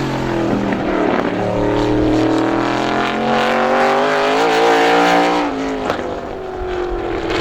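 A race car laps the quarter-mile oval at Star Speedway during ISMA time trials, its loud engine roaring steadily and rising in pitch as it accelerates, close and continuous, then easing near the end.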